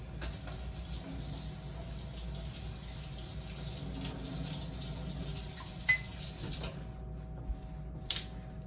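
A little water runs from a tap or is added to a dough mixture for ham and cheese pockets, a faint continuous trickle in a quiet kitchen with a couple of small clicks near the end.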